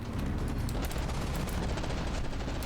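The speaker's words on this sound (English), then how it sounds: "Is it shooting is a good question, and the answer to that question was yes." Battleship guns fire in the naval combat game From the Depths as a dense, continuous barrage of booming shots and rumbling impacts that stays loud and unbroken for the whole stretch, with no talking.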